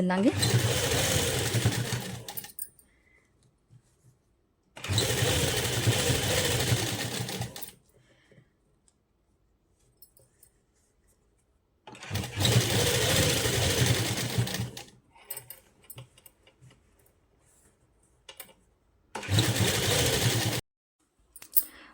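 A sewing machine stitches lace onto the hem of a printed suit in four long runs of steady whirring, each separated by quiet gaps, heard up close.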